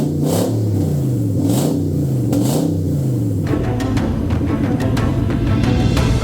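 A Nissan G35 coupe's VQ engine idles with a steady rumble, blips up three times, then holds a long, loud rising rev that stays up to the end, heard close with no talking.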